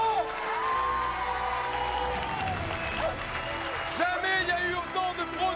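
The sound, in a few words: crowd applauding a record 163 building professionals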